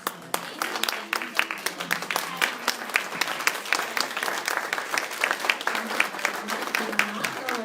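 An audience at a self-care lecture rises and gives sustained applause, dense steady clapping with scattered cheers running unbroken from start to finish.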